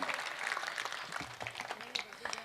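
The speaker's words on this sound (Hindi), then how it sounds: "तालियां भी बजाओगे" An audience at a live comedy show applauds in a continuous, fairly faint wash of clapping, with voices talking over it.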